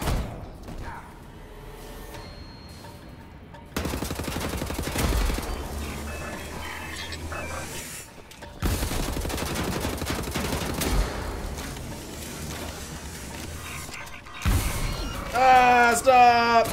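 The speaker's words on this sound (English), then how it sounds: "Stop shooting me!" Gunfire in the shooter game Wolfenstein: The New Order comes in loud bursts and volleys across several sections, separated by abrupt cuts, with a player talking over the action.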